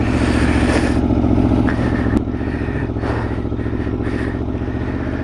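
A 2020 Aprilia Tuono motorcycle on a race map with an Aprilia exhaust rumbles loud and close while riding, its engine note pulsing and shifting as the throttle eases off, with wind noise over the top.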